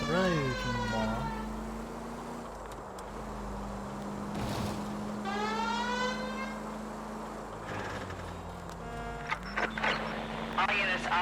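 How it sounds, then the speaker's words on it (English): A wailing police car siren in the video game L.A. Noire, rising and falling in repeated sweeps over a steady car engine drone, loud and close, with brief bursts of other in-game noise between the wails. "I did put my siren on before you went across the road"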